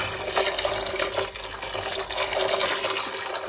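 Steady rushing of water pouring into a pot of cranberries, a continuous splashing stream that stays fairly loud and even throughout.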